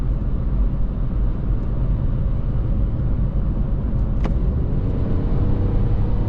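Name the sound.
Mini Cooper 1.5 136HP engine driving in sport mode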